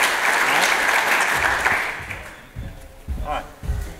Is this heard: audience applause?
yes